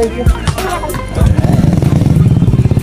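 A Honda Click 160 scooter fitted with a full system aftermarket muffler idles nearby, its engine rising into a steady, throbbing, close exhaust note after a brief moment of quieter noise.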